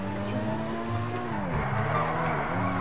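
A Krieger supercar in GTA V roars close by with a revving engine whose pitch dips and climbs, tires squealing as it skids, loud and continuous with no talk.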